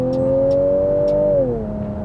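A Ford Edge ST with the 2.7 EcoBoost turbo engine revving, a brief, close rev holding a steady rising note before dropping back to idle, with a few faint clicks above it and no talk.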